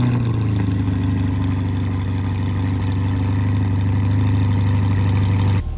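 A 2025 Chevrolet Corvette Stingray with the Sport exhaust rumbles at a steady, deep, loud idle, its low engine drone holding constant for several seconds before cutting off abruptly.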